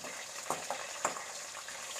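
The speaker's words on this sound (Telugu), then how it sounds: "జీలకర్ర కొంచెం మంచిగా ఫ్రై అవుతుంది కదా ఇప్పుడు కాజు కూడా వేసుకుందాం" Cumin seeds and cashews frying in oil in a pan, a steady soft sizzle broken by a few brief crackles and stirring scrapes, with no one talking.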